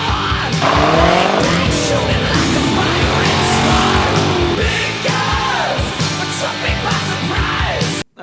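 A C4 Corvette roars loudly and continuously with rising and falling engine revs and squealing tires, dense and close throughout before cutting off at the end.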